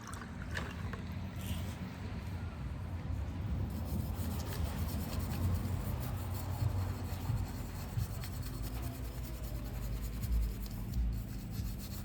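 Steady scrubbing and rasping as rust is scoured off a part of a Coleman 502 single-burner stove during refurbishment, a close continuous rubbing that runs throughout with no talk.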